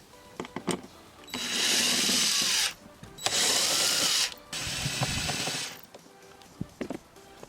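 Three bursts from a power drill driving out Phillips screws on the cabin air filter cover of a Mercedes G500 W463, each whirring run lasting about a second or more, with faint handling clicks in between.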